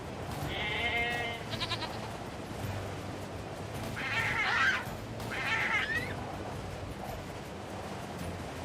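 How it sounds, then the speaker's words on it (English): Sheep bleat a few times over a soft ambient background in the video game Nier: Replicant, short wavering calls at moderate distance with no talking. "there's more sheep when it's sunny"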